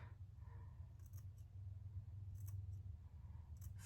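A few soft, crisp snips of scissors trimming bangs, spaced apart and quiet over a steady low hum.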